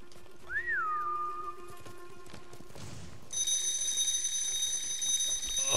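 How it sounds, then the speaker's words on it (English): A timer alarm in Ghost of Tsushima kicks in partway through as a bright, steady ringing tone, loud and continuous, after a brief whistled call and horse sounds over a low background. "Okay, there goes our timer."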